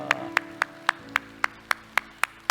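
A church congregation claps in praise to God, a single clear beat of sharp, evenly spaced claps at a brisk, regular rhythm, with a sustained tone lingering underneath.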